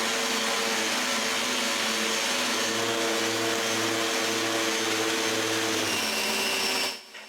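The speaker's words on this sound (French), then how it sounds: "Sabler avec ma grosse sableuse orbitale prend bien moins de temps" A large orbital sander works over glued wood panels, giving a loud, steady whirring drone that holds for about seven seconds and then cuts off abruptly.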